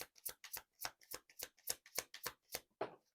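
Tarot cards being shuffled by hand in a quick series of about a dozen crisp riffling snaps, close and quiet, with no voices.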